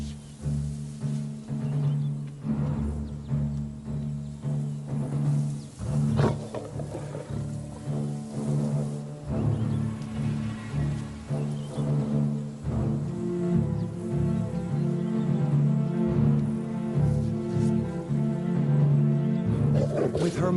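A lioness roars repeatedly while defending her cubs from a male lion on a rocky kopje, with deep, pulsing roars and growls close by and other lion calls mixed in.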